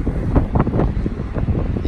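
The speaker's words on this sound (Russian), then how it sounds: "вы видите, как пальма качается и как он, ветер гудит" Wind gusts roar steadily past swaying palm trees on a street in Saudi Arabia, a broad, continuous rushing with uneven surges and no voices.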